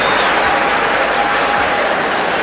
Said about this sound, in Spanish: démosle un aplauso al hermano que ha venido a compartir con nosotros